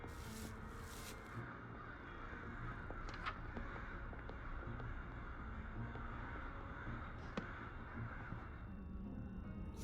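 Crows caw a few times in a horror dating game, set against a steady ambient drone. Short calls are scattered at a moderate distance, with no talking over them.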